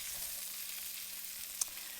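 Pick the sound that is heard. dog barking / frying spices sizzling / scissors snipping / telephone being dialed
frying spices sizzling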